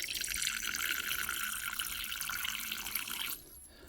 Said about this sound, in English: Just give her a bit of water.